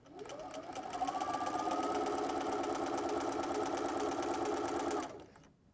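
A sewing machine runs steadily while stitching around the edge of a soft baby blanket, a smooth continuous mechanical whir that builds up, holds for about four seconds and then stops, fairly quiet and close.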